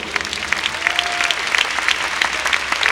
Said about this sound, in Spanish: Si va a darle ese aplauso, déselo fuerte al Señor